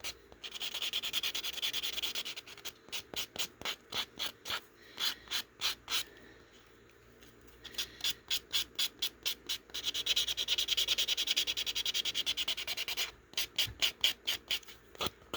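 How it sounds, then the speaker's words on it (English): A nail buffer rubs a fingernail smooth in quick, rhythmic strokes, close and quiet, alternating short separate swipes with longer runs of continuous buffing. "I'm just going to buff it out all the bumps and ridges and stuff"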